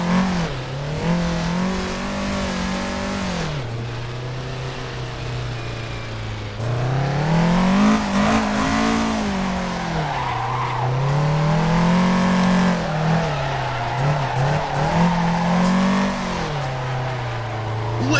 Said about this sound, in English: This challenge is about doing a wider donut to the point where the car rotates in one direction, but the steering wheel is actually pointed in the opposite direction